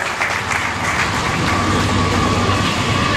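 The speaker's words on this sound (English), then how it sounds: "I'll let this train get past here for a second." A train rolls past close by during an outdoor rally in Washington, Missouri, a loud steady rumble and rattle of railcars that fills the whole stretch with no talk.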